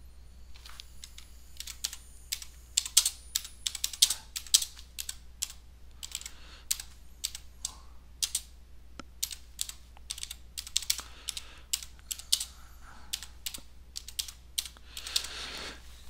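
Rapid, uneven clatter of keys on a computer keyboard while adding comments in an online spreadsheet, close and clear, with bursts and short pauses throughout.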